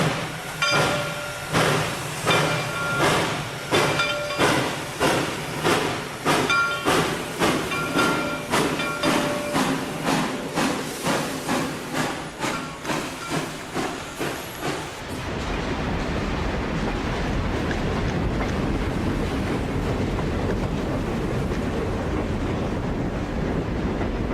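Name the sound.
train 407 departing on the Elk Valley line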